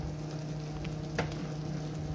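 Lonches, Mexican sandwich rolls in the Progreso style, toasting on a hot griddle give off a steady dense sizzle with a low hum beneath, close and constant, and one brief scrape midway.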